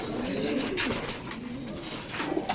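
MacArthur pigeons, young birds among banded older ones, cooing steadily and close by, soft repeated low coos under a busy background of rustling and bird movement.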